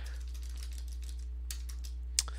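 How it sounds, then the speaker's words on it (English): Quick light keystrokes on a computer keyboard while entering code, tapping in an irregular patter over a steady low electrical hum, with one sharper key strike near the end. "I can start typing things like that"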